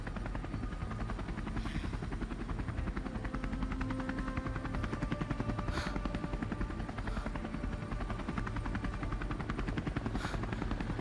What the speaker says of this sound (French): Un hélicoptère glisse entre les toits.